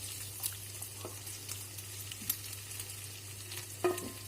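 Onions and leeks sweating in fat in a frying pan, a quiet steady sizzle with a low hum beneath, broken by a few soft clinks and stirring scrapes.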